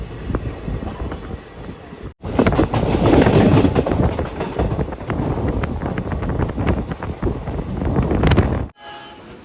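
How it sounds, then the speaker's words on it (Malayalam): Passenger train from Kannur to Cheruvathur pulling into Chirakkal railway station, loud rolling rumble with wheel squeal and gusty wind buffeting, a quieter stretch at the start and a sudden drop near the end. "ട്രെയിൻ ഇപ്പോൾ ചിറക്കൽ റെയിൽവേ സ്റ്റേഷനിലെത്തി."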